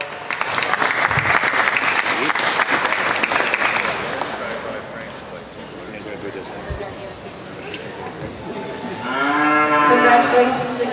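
Applause from the audience at an Ontario summer Jersey heifer cattle show in 2018 rolls in a dense burst for several seconds, then fades, and a cow moos loudly near the end.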